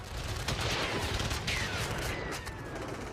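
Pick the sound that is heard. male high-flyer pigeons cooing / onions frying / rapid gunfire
rapid gunfire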